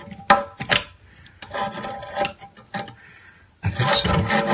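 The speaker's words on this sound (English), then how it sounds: "So what I'm going to do is I'm going to loosen this nut." Vice grips working a nut loose on a toilet with a faulty flush, giving rough metallic rubbing and rasping scrapes in irregular bursts, with a few sharper clicks early and a louder stretch of grinding at the end.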